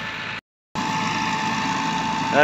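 A tractor engine runs with a 385 India chopper machine attached, a steady close idle-like drone that cuts out briefly near the start, then resumes and builds slightly at the end.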